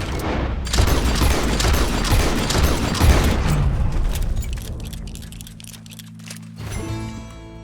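Rapid gunfire from Red Dead Redemption 2 crackles in a dense volley, loud and close, then dies away into a quieter tail with a ringing tone near the end.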